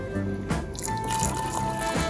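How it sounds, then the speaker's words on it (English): Water is poured into a pot of Jamaican-style cow foot stew with beans to cover the meat. The liquid trickles and drips steadily at close range, with a few soft splashes and a faint tone. "we can put some more water just to cover it completely now"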